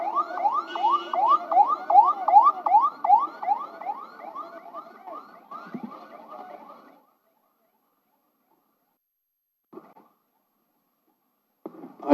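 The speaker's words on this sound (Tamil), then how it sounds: "வழி விட்டுருங்க ஆம்புலன்ஸ்" An ambulance siren wails in a fast repeating up-and-down pattern as it passes through a campaign rally crowd, loud at first then fading out after about seven seconds, followed by near silence with brief faint bursts.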